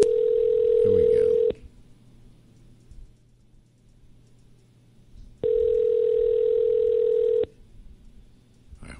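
A telephone ringback tone sounds in two long steady bursts separated by a few seconds of quiet line hiss.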